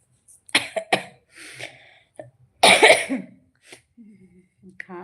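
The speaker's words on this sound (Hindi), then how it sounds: "खांसी आ रही है तो इसकी वजह से।" A woman coughs several times in short, harsh bursts close to the microphone, with one heavier fit in the middle and quiet pauses between the bursts.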